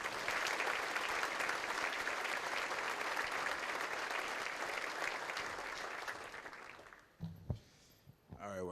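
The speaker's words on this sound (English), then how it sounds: "Let's have a nice round of applause for Tevin McCaster." Sustained applause from a banquet audience at a university scholarship and ring banquet fills the room for about seven seconds, then fades out into a few handling noises and a voice starting to speak.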